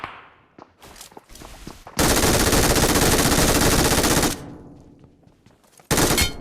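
Automatic gunfire in the mobile battle-royale game PUBG Mobile: scattered shots, then a loud sustained burst of about two seconds, and a second short burst near the end.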